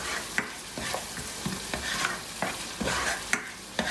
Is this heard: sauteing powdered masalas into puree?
yes